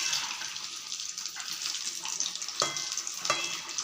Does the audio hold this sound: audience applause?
no